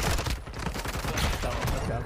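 Rapid gunfire from a first-person shooter match, a dense burst of repeated shots crackling loudly and close for about two seconds with no pause.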